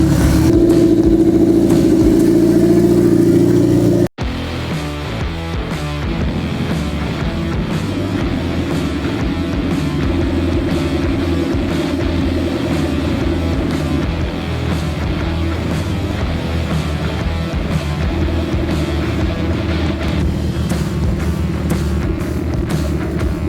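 A turbocharged $800 car warming up, with a loud steady engine drone and repeated revving as the turbo starts to spool, close up and running continuously after an initial abrupt cut.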